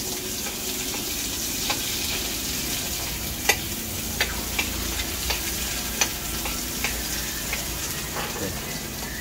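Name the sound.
garlic frying in a pan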